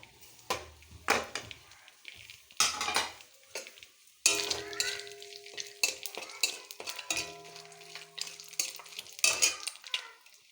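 Whole garam masala spices sizzle in hot oil in a pan after fish has been fried in it. Bursts of crackling alternate with scraping and clinking as a spatula stirs, and a metallic ring sounds partway through.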